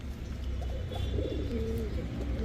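A running laying pigeon, from a Pakistani teddy, racer or high-flyer breed, gives a soft low coo at close range amid faint background noise, brief and single.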